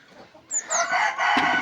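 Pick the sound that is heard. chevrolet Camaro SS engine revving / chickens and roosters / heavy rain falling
chickens and roosters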